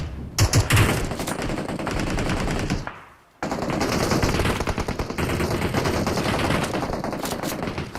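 Dense machine-gun fire during a close-range fight in the Battlegrounds Mobile India game, rapid bursts of shots loud throughout, broken by a short fade to near silence around three seconds before the firing resumes.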